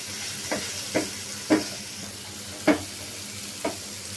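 Chili, coriander and turmeric powders sauté in a hot pan under a steady soft sizzle, while a spatula scrapes at about five spaced strokes, close and moderately loud.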